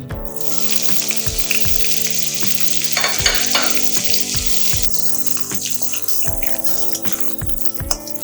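Bitter gourd hits hot mustard oil with five-spice (panch phoron) and fries in a loud, steady sizzle, with repeated clinks of a spatula stirring the pan close up.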